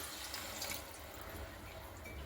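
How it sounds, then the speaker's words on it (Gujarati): Sour buttermilk poured into a spicy gathiya curry: steady liquid pouring and splashing, a continuous watery rush without pause, close by and moderately loud. "જે ખાટી છાશ લીધી હતી ને તે એડ કરી દઈશું"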